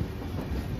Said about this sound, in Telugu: ఇప్పుడే మన ట్రైన్ అయితే డోర్ నుంచి బయలుదేరింది, ప్లాట్ఫామ్ నెంబర్ 1 నుంచి